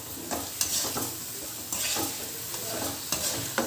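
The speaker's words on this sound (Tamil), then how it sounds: "ஸோ நான் ஹை ஃப்ளேமில் வச்சு தான் வதக்கிட்டு இருக்கேன்" Tomatoes with salt and turmeric sautéing over a high flame, a loud continuous sizzle broken by repeated scraping stirs of a spatula, close and without talk.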